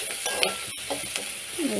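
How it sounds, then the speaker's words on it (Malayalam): Drumstick thoran being sautéed in a pan, a steady low sizzle with intermittent scraping stirs and a few light utensil clinks, close and continuous. "ഒന്ന് ഇതുപോലെ ഒന്ന് വഴറ്റിയെടുക്കാം"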